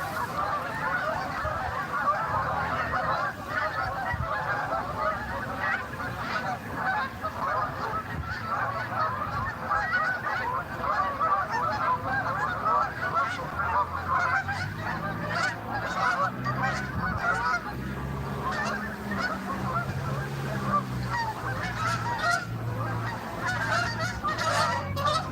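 A flock of geese honks continuously from a distance during a pike fishing outing, a dense, steady chorus of overlapping calls with a low rumble underneath and no pause.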